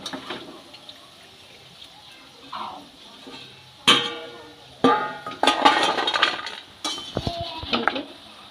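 Fried cauliflower and potato pakoras lifted out of a pan, with intermittent metallic clinks and scrapes of utensil against cookware amid faint watery background sounds.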